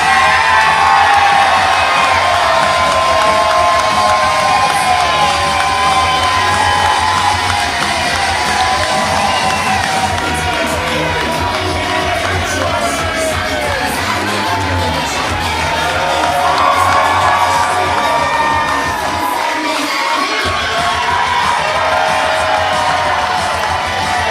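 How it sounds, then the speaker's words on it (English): A packed crowd at a live professional wrestling show roars and cheers just before the main event, with loud, sustained cheering and whoops filling the whole stretch. "Listen to this crowd, Sam Laterna."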